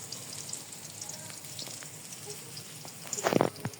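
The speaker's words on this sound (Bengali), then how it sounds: "কড়াইতে তেল দিয়ে দিছি, এই যে পেঁয়াজ মরিচ দিয়ে দিই" Sliced onions and green chilies frying in hot oil in a wok, a close, continuous sizzle with a busier burst of crackling near the end as they are stirred.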